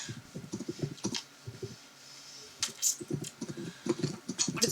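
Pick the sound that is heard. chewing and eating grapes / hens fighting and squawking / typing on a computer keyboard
typing on a computer keyboard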